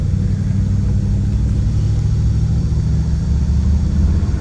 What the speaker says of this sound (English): The engine runs and drives well.